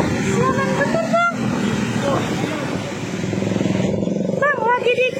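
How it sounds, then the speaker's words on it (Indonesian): A motorcycle engine drones nearby, following a group walking beside a lake, with a horn tooting in bursts while people talk loudly over it. "Bang lagi diikutin motor loh."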